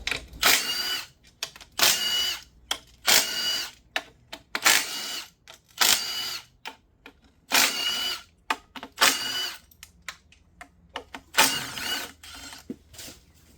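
Ratcheting hand tools on 10 mm bolts of the upper intake plenum on an Infiniti FX35/G35 V6 during a valve cover gasket job, heard as repeated bursts of quick metallic clicking with short pauses, close and fairly loud, with no talk.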